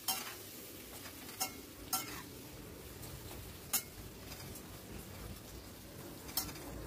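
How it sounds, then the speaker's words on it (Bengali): Thinly sliced potatoes fry with spices and salt in a pan over a high gas flame, a steady close sizzle punctuated by occasional sharp clinks and scrapes of stirring, with no voices. "আর আলুগুলোকে একটু ফ্রাই করে নেব।"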